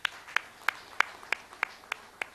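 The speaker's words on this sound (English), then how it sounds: "If not, we give a big applause again." Audience applause heard as a steady run of about eight distinct, evenly spaced claps, fairly faint and without voices, at a social business design lab event.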